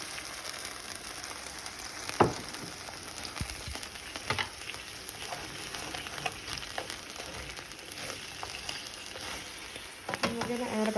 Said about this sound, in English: Now over a pretty high flame, I'm gonna add my 1/4 cup of white wine.